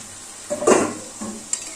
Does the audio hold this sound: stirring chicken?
yes